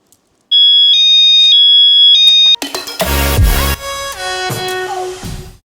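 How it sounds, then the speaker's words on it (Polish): A Satel BE WAVE wireless alarm system beeps loudly in a steady pulsing pattern, then switches to a piercing wailing siren with sweeping tones, close and dominant. "uzbrajamy alarm i teraz możemy sprawdzić, czy system działa. Powinno być głośno."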